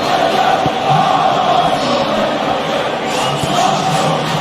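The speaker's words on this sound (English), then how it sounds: "it's good to see that the crowd appreciate his efforts" A large football stadium crowd applauds and murmurs in a continuous, loud wash of sound as a player is substituted, with faint voices mixed into the roar.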